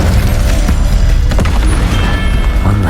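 Incendio fire-spell blasts in Hogwarts Legacy, a loud, continuous roar of booming bursts and crackling impacts during combat against a hulking brute, heavy and close with no pause.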